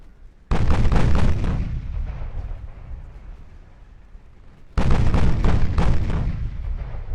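Battleship secondary guns firing in the naval game Ultimate Admiral: Dreadnoughts come through as two loud, sustained rumbling barrages of overlapping booms, the second after a lull of fading rumble.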